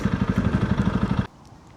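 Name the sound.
riding a 300 Rally motorcycle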